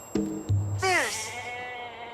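Sheep bleat close by: a short wavering cry followed by a longer, louder bleat that trails off, with no talking.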